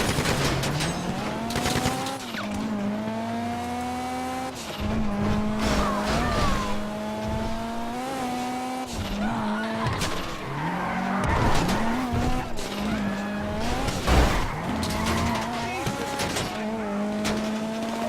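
Car driving and skidding in GTA V Online during a heist getaway, with a steady engine drone rising and falling through gear shifts and repeated tire squeals, loud and continuous throughout.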